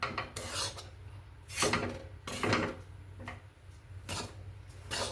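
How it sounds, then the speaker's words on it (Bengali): Besan laddu mixture is worked with ghee in a pan, producing a series of scraping, rubbing strokes of a spoon against the metal, spaced a second or so apart, close and quiet, with no voices. "দেখো নাড়ছি"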